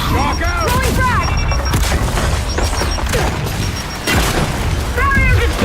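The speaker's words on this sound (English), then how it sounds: "Throwing frag! Throwing grenade! Frag out!" Frag grenade blasts in Gears of War 5 thud through a dense, continuous firefight, with heavy booms and gunfire under shouted voices throughout.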